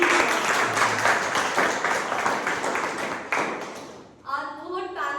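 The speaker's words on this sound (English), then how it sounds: "Please give him a huge applause." An audience at an inter-club debate competition gives a panelist a short burst of applause, with dense clapping under ongoing talk that fades out, then a voice speaks alone at the end.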